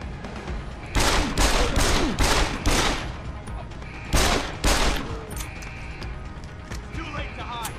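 Grenade blasts and rapid gunfire from Deus Ex: Human Revolution, The Missing Link: several loud, dense bursts roll out one after another, then a second heavy burst follows after a brief lull, with lighter shots trailing off.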